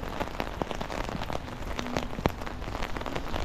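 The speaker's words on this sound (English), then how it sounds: "Do not enjoy walking in the rain." Steady rain patters on surfaces and an umbrella during an outdoor walk on a rainy day, a dense continuous hiss with scattered sharper drops close by.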